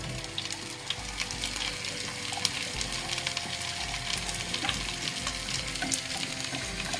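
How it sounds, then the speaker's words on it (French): Onions stirred and cooking in a casserole, a steady close sizzle with soft scraping from stirring running continuously at low level. "Là, tu as mélangé les 3/4 de tes oignons."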